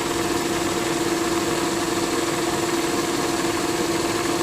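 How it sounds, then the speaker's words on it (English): A milling machine spindle spins an edge finder against a part, giving a constant, steady motor hum with a tonal whine that holds unchanged and close the whole time, with no talking. "I'm going to turn my spindle off so it doesn't sit there and rub"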